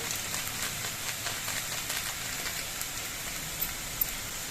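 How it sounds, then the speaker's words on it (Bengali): Potatoes and pointed gourd with spices fry in a pan, a steady soft sizzle with faint crackles throughout and a small pop near the end. "এবার সব কিছুতে নেড়ে তেড়ে কিছুক্ষণ ভেজে নিতে হবে"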